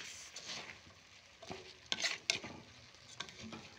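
Rice being stirred in a cooking pot, soft scraping and shuffling with a few sharper clinks of the utensil against the pot, close and fairly quiet with a gentle sizzle beneath.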